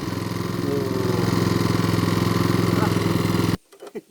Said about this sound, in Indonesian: sudah saya nyalakan sambil hitung-hitung memanaskan mesin terlebih dahulu karena tadi lupa